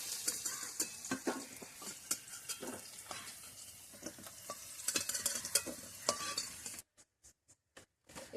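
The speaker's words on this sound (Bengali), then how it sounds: "যেখানে আলুটা হালকা করে ভেজে নিয়েছি," Potatoes lightly frying in a pan, with steady sizzling and repeated scraping stir strokes close by for most of the stretch, then a few short sharp clinks against quiet near the end.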